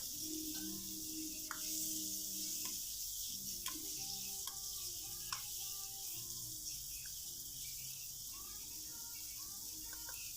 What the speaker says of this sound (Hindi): अब हम इसमें मैरिनेट किया हुआ चिकन डाल देंगे। और इसको हल्का सा भूनेंगे।